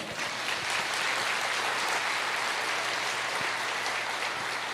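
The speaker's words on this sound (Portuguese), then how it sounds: "Você pode aplaudir o Senhor?" A church congregation applauding during a sermon, a steady wash of many hands clapping together at an even loudness, with no voice above it.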